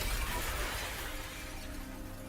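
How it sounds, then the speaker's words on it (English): Glass shatters in a sudden loud burst at the start, breaking up into a trailing scatter of debris and fading into a low hum, with no speech, as a sound effect in the game Arknights. "The sound of glass breaking."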